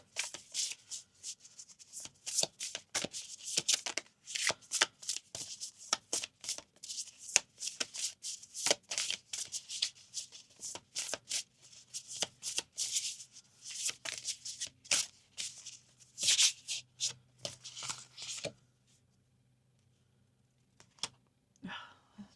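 A deck of Mary Magdalene oracle cards being shuffled by hand: close, rapid, irregular riffling and flicking that goes on for about eighteen seconds, then stops and leaves near silence.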